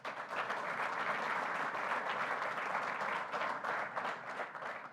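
A crowd applauds steadily and loudly, a dense wash of clapping that holds for several seconds without voices.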